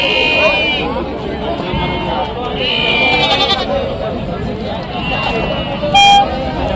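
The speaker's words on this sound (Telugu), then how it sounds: "మేకపోతులు" Male goats and sheep bleat repeatedly at the Rajarampalli weekly livestock market, their calls rising over continuous nearby talk and busy crowd noise.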